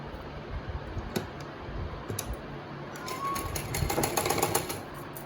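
A sewing machine running basting stitches on a prince cut blouse, a soft continuous mechanical whir with light ticking that grows a little busier toward the end, heard at moderate distance with no talk.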